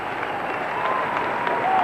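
An arena crowd applauds figure skater Brian Pockar at the 1982 World Championships, a steady wash of clapping that holds at an even level and swells slightly at the end.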